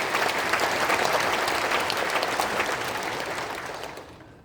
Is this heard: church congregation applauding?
yes